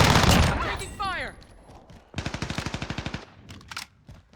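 Rapid bursts of automatic gunfire in a squad-based shooter game, a dense rattling volley mid-clip followed by scattered single shots, with a voice speaking briefly at the start.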